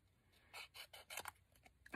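Scissors fussy cutting a small paper piece for a papercraft project, heard as a few quiet, separate snipping and scraping strokes in a steady rhythm, close by and with no talking.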